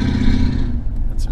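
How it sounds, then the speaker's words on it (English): A loud car roars past close by with a heavy low engine rumble that fades after about a second, followed by faint clatter. "That's a really loud car."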